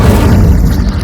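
Casting the Incendio fire spell in Hogwarts Legacy gives a loud, dense whoosh and low thudding roar that fills the moment steadily without a clear break.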